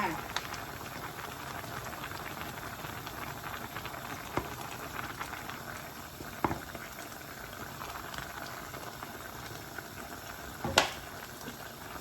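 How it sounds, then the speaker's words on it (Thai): Thai chicken curry with sour bamboo shoots bubbling in a pot, a steady soft seething boil with occasional sharper pops and clicks, close and fairly quiet throughout. "เดือดแล้วจ้าเดี๋ยวเอามาปรุงกันเนาะ"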